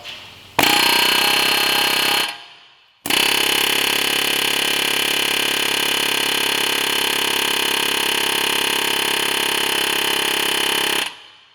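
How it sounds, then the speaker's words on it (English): Loud, continuous air hammer rattling at close range, punching out the passenger-side axle of a 2013-2018 Honda Accord, in two bursts, a short one and then a long sustained run, with a brief pause between. "an air hammer with a pointy tip on it and literally just center punch it out."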